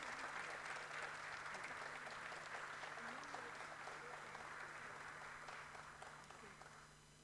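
Strong applause from a conference audience for a speaker on housing and land registry, a steady wash of clapping heard at low level with a faint hum underneath, fading slightly toward the end.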